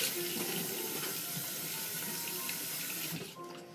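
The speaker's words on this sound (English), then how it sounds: "So first I'll get my face wet." Water from a bathroom sink tap runs steadily and close by for several seconds as someone wets their face before shaving, then stops abruptly near the end.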